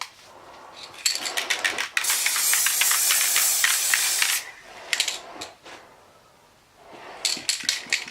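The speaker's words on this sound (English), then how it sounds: "while I've got the whole spray painting set up ready, I'm gonna actually spray this as well" Spray paint hisses onto metal Pokémon badges in loud bursts, a long continuous spray in the middle flanked by short rattling, clicking puffs from the can, with quiet gaps between.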